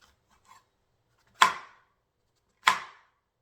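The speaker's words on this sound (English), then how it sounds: "the first thing I'm gonna do is chop up these, the onions and the mushrooms" A knife chops through onions and mushrooms on a cutting board, two distinct sharp cuts about a second apart, close and clear against near silence, with faint small clicks before them.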